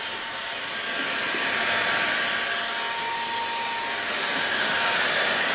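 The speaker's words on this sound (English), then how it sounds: "Now watch, we take the heat gun." Heat gun blowing hot air, a loud steady whooshing blower roar with a faint motor whine, continuous and close throughout, rising slightly after the start.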